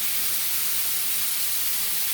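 Sausages sizzle in a hot pan with tomato and peas, making a loud, even, close hiss that runs without a break.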